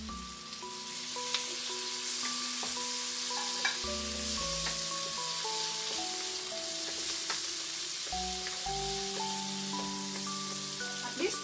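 Mushrooms fry together with onion in a pan for a creamy carbonara, giving a steady sizzle broken by stirring clatter and scrapes, close and continuous with no talking.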